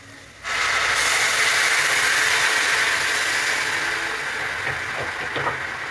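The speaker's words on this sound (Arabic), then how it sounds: "هنزل عليهم بكوبايتين ميه" Two cups of hot water poured onto rice in a cooking pot, a sudden loud rushing hiss that starts abruptly and continues steadily, close and alone.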